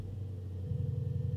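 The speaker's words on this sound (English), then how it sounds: "We'll be starting it up in 3, 2, 1," A 2024 Mercedes S930 Brabus 930 hp V8 starts up close by: a low rumble, then partway through the engine catches into a louder, pulsing idle that continues to the end.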